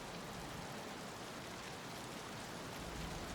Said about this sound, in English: The rain's getting heavier.